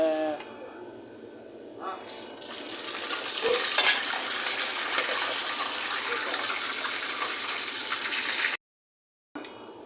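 Mustard seeds, cumin, cinnamon and cloves fry in oil for a chicken liver curry, with a close, steady sizzle and crackle, a few clinks and stirring sounds, then a sudden brief silence near the end.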